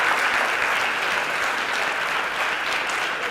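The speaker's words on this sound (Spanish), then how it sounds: "Un fuerte aplauso." Strong, steady audience applause welcoming two speakers at a conference talk, a dense even wash of many people clapping throughout the short stretch with no break.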